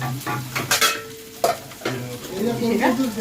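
Chicken pieces frying in a pan, a close sizzle broken by scraping stirs and the clink of a utensil against the pan.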